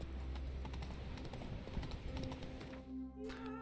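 A horse gallops in The Witcher 3, its rapid clip-clop hoofbeats running steadily under game music and ambience before the rhythm fades out near the end.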